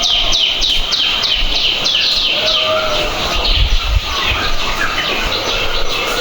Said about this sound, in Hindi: सुबह आंख खुलते ही भले ही हम 15 मिनट यहाँ टहलें और ये चिड़ियों की चहचहाट सुने